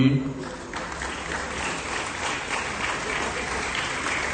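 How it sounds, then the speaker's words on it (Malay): Audience applause at a school hall opening ceremony, a steady wash of clapping from a crowd indoors, moderately loud and sustained throughout after a brief voice at the start. "berikan tepukan kepada YB"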